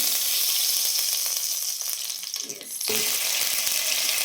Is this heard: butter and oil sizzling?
yes